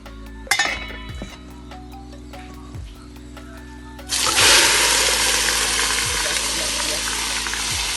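A few metallic clinks, then a loud, steady sizzle bursts out as chicken hits a hot pot for Trinidad and Tobago pelau and keeps hissing.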